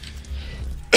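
A single sharp cough bursts out at the very end, loud and close, after a second of low murmuring background hum.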